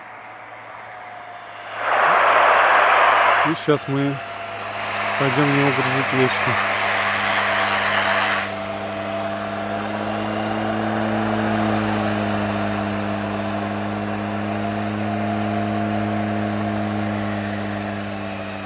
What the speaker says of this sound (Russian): Вот приземляется наш самолет.